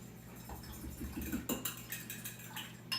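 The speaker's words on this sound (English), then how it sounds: "Now, I'm just going to stir this up a little bit." A spoon stirs a mixture in a bowl while preparing chicken fried liver, making faint, irregular clinks and light scrapes against the bowl, close up and quiet, with no talking.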